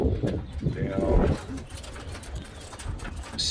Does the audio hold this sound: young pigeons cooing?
yes